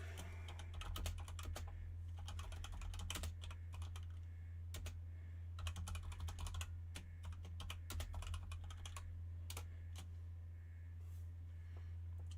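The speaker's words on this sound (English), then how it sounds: "I am going to start typing." Rapid, irregular clicking of computer keyboard keys, close and steady throughout, over a constant low hum in a quiet room, with brief pauses between bursts.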